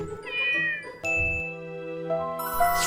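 A cat meows several times in a row, each call clear, close and drawn out with a rising and falling pitch, with no voices present.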